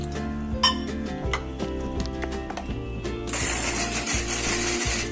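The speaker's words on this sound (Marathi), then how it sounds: "आता आपण या खेकड्याच्या आंगड्या आहेत ना, त्या मिक्सरला वाटून घेऊ." A kitchen mixer grinder churns crab shells with a little water, a steady close mechanical whir with rhythmic clunks that shifts to a harsher, brighter grinding roar partway through.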